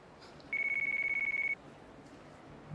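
A phone rings in the video game Yakuza 3 Remastered: a clear electronic tone pulses rapidly for about a second over a quiet background hiss, then stops.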